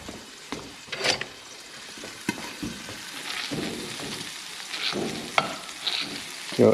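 Food frying in a cast iron pan while being stirred, with a steady sizzle broken by scraping strokes and clinks of a utensil against the pan, close and clear with no talking.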